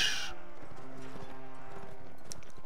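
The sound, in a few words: horse hooves clip-clopping in the video game Mount & Blade Warband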